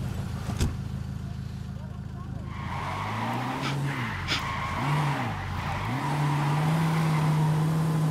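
A car driven in the video game Ghost Recon Wildlands, with a steady engine drone rising and falling in pitch as it revs and shifts, a sharp knock near the start, and a player talking over the game sound.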